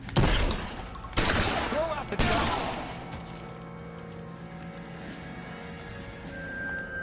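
Shotgun fire in LA Noire: a few sharp, loud blasts in the first two seconds, each trailing into a fading echo, then quieter ambient game sound.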